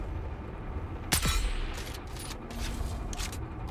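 Poison-round gunfire in a sandworm-hunting video game: a sharp, loud boom near the middle followed by a few fainter shots and reverberant rumble in the background.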